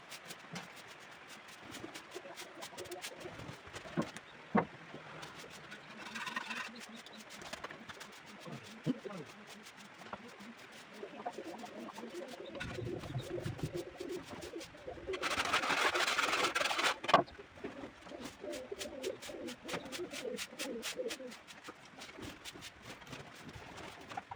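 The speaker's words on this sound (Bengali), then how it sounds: "সব কটা পায়রাকে এইখানেই খেতে দিতে হবে" Pigeons coo on and off indoors amid scattered clicks and rustling, with some voices and a short burst of hissing noise midway.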